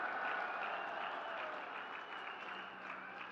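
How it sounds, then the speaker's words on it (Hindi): A crowd of onlookers claps at a foundation stone laying ceremony in Uttarakhand, a sustained, fairly distant wash of applause that runs unbroken and gradually eases slightly, with no speech over it. "मेरे नौजवानों, ताली बजाइए, आपका काम हो रहा है।"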